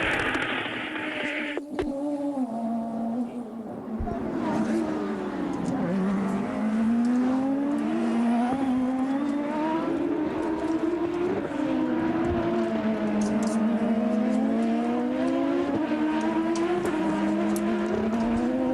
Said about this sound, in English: Sebastian Bourdais going down into the corner.